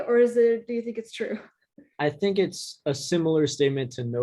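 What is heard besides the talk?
None of the usual background noises is heard.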